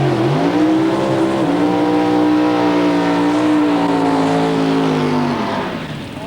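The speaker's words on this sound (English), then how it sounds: "Next, the pro-modified class, the fastest saloons in drag racing." Pro-modified drag racing saloon cars at Santa Pod, a loud sustained engine roar with a steady droning pitch that holds for several seconds before easing off.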